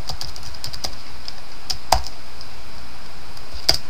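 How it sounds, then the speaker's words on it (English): Computer keyboard typing of a short line of code, with rapid light key taps over a constant hiss and a couple of sharper, louder strokes standing out. "I will type a quick end if statement right there"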